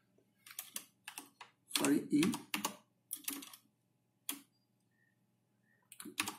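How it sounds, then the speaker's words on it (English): Computer keyboard keys tapped in short irregular bursts while a command is typed during Windows drive data recovery, close and fairly quiet, with a voice speaking briefly between the keystrokes. "then press enter from your keyboard"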